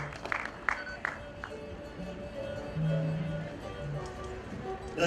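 At a trade fair's Uganda Day, the audience applauds with sparse, irregular hand claps that fade into a murmur of room noise and speech, fairly quiet and distant.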